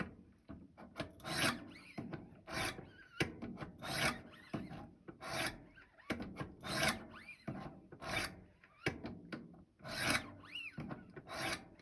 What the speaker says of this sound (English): I do these a little bit lighter because I am still using a 200 grit stone